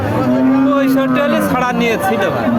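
A cow moos loudly and at length in a busy Bangladeshi cattle market where lean, bony cattle are sold, with voices and crowd noise mixed in around it.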